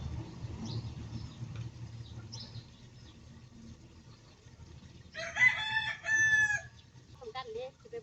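A rooster crows once at middle distance in a rural Thai kitchen garden in the evening, a clear multi-part call standing out over faint background murmur and low rumble.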